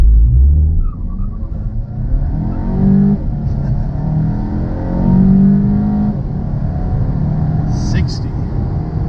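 A 2021 VW GTI accelerates from 0 to 60, a rumbling engine rising in pitch and dropping at shifts, heard loud and close from inside the car with a voice talking over it.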